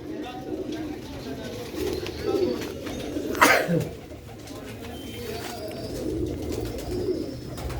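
A purebred Sialkoti pigeon coos in soft repeated phrases close by, with a louder bird call near the middle, under a steady background murmur.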